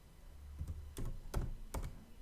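Keys on a computer keyboard are typed while a keyword is entered into a software field: a few separate taps spaced unevenly, close and moderately quiet, with no speech.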